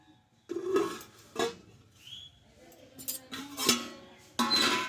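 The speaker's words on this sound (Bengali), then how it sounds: "এবার তোমাদের ঢাকনাটা তুলে দেখাবো" A lid comes off a pot of Bengali lachha semai cooked in milk, with a few close metallic clinks and knocks separated by quiet gaps.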